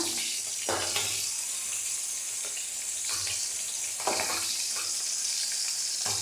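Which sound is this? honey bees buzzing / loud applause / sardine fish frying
sardine fish frying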